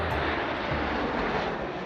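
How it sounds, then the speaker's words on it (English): A 70-year-old propeller aeroplane in an RAF flypast for Trooping the Colour drones steadily overhead, a loud, continuous engine roar filling the whole short stretch with no talking. "She's a 70-year-old aeroplane."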